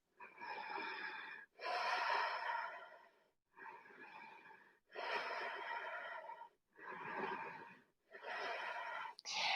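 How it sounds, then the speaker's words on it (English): Strong ujjayi breathing in a yoga vinyasa flow, with six long, steady, audible breaths through a constricted throat, each a rushing whoosh lasting about a second or more, separated by brief pauses. "Ujjayi, strong, flowing breath,"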